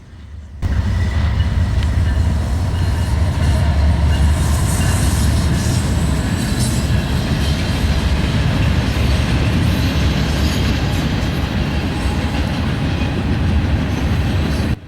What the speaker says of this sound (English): we have this Norfolk Southern westbound. This was symboled 11K, a mixed freight originating out of Conway